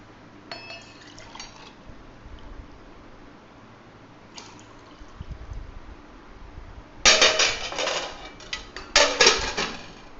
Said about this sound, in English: I'm going to add another half a glass of water to this.